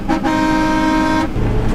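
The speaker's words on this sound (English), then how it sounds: "She's got onboard air and a semi-horn." A semi-truck style air horn fitted to a 2005 Chevrolet Kodiak blasts in one loud, steady, harmonically rich tone lasting about a second, close and dominant, followed by a low engine rumble.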